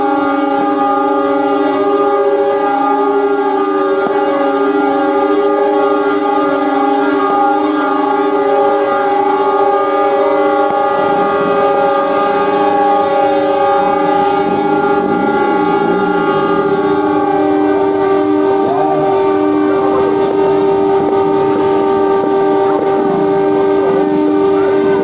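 An S35 train horn blares during a New Year celebration in Surabaya, a loud, sustained multi-tone chord holding steady for the whole stretch with faint crowd and other horns beneath it.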